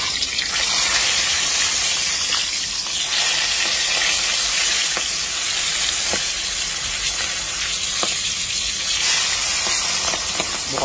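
Milkfish fries in a pan of hot oil with a steady, loud sizzle and hiss, faint pops and crackles scattered throughout and no one talking.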